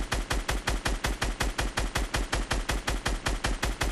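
Rapid automatic gunfire in Fortnite, shots aimed at a player building up, a steady loud burst of evenly spaced shots running without a break.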